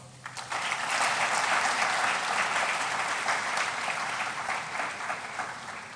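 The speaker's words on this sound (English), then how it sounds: "I want us to clap for them" An audience at a pharmacy faculty White Coat Ceremony claps for the faculty, a broad, steady roar of many hands that swells quickly after a brief start and holds evenly, somewhat distant in a large hall.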